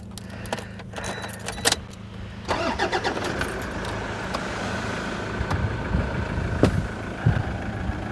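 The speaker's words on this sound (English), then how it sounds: "I'll just start the car" A car's engine is started, with keys jangling close by before the starter cranks and the motor catches into a steady idle, clear and nearby.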